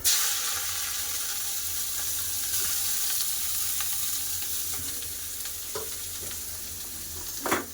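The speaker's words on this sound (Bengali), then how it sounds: "তেল গরম হয়ে গেছে কেটে রাখা উচ্ছা দিয়ে দেবো" Loud, steady sizzling of bitter gourd frying in hot mustard oil, with a few scrapes and knocks of a spatula near the end.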